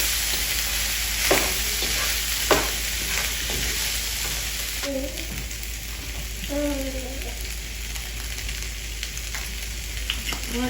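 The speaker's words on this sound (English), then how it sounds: "we're going to go ahead and add us some more of our flavor oil. And then we're going to go ahead and season it up. Give it a quick stir." Vegetables stir-fry in flavor oil with seasoning and get a quick stir, making a continuous close sizzle with a few brief clatters and faint voice-like sounds in the middle.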